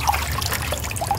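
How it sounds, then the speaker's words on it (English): Higdon XS Pulsator duck decoy spraying water, a continuous close trickling splash of falling droplets throughout the brief moment. "it's spraying a lot more water right now than it was earlier"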